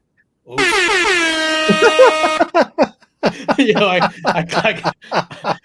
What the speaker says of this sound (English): I thought the air horn was on the top.